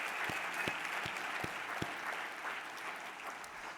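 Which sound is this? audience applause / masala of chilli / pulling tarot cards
audience applause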